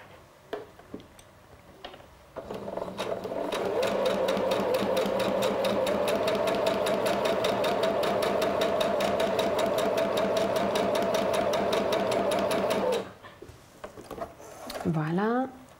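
Domestic sewing machine running a continuous seam with thread tension set to 2, during a masterclass sewing an Amoroso bodysuit; steady fast stitching hum for about ten seconds, starting and stopping cleanly, with brief speech afterward.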